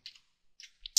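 Computer keyboard keys are pressed for a Ctrl+Home shortcut in an Excel spreadsheet, giving a few light, close clicks with short gaps between them and one sharper tap at the end, in an otherwise quiet room.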